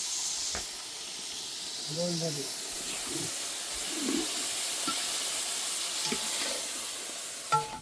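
Tamarind water hits a hot pan of okra and gives off a steady hiss of sizzle and steam. Faint voices and small clinks sit under the hiss.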